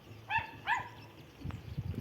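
Two short, high yaps from the neighbour's small dogs, somewhat distant over low outdoor background noise, followed by faint rustling.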